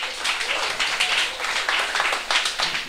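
Audience members applaud a speaker at the reopening of a refurbished pan theatre, a steelpan venue in San Fernando. The clapping comes in moderate, rippling waves at medium distance and holds steady throughout.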